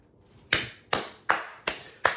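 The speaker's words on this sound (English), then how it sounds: "Let me clap it up." Five sharp hand claps land one after another at a steady, unhurried pace, close and alone with no voices.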